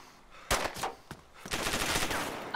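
Gunfire during a video game shootout: a few separate sharp shots followed by a longer rattling volley of rapid fire, moderately loud, with no talking.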